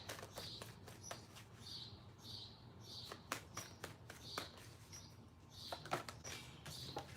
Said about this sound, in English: I love hearing the birds talking out there.